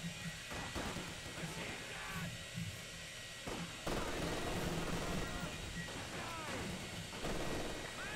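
A Maxim machine gun fires at flamethrowers in Company of Heroes 2, with dense rattling gunfire and rumbling battle noise filling the whole stretch continuously at a moderate level.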